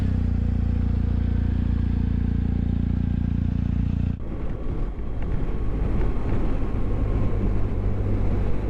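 A motorcycle rides along Derbyshire roads, its steady engine drone mixed with strong wind rush, shifting to a rougher, busier roar partway through.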